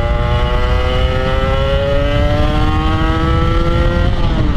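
A Kawasaki Ninja 150 RR two-stroke engine with a modified carburetor revs up hard and close, its rising buzzy whine climbing steadily in pitch over a few seconds.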